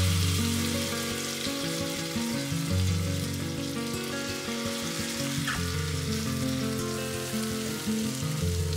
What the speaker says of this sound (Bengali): এবার কড়াইতে তেল আর ঘি মিশিয়ে চিকেনের পিসগুলোকে অল্প করে ভেজে নেব